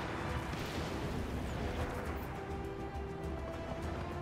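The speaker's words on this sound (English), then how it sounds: "it's something shooting at me, something fierce too" Sustained gunfire and rumbling blasts aimed at the player in the open-world action game Just Cause 3, a dense continuous barrage of cracks and booms with no talking over it.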